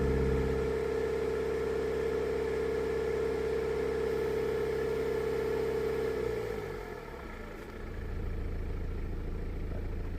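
A BMW 118d E82 diesel engine idling smoothly after a fault repair, a steady close hum with a low harmonic drone that dips briefly and settles again, no voices present.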